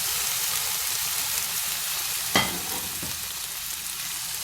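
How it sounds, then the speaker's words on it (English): Vegetables frying in vegetable oil in a hot pan give a steady, close sizzle, with one sharp hiss burst partway through as they are tossed, then an even crackle. "Toss it around the pan and pass my vegetables inside."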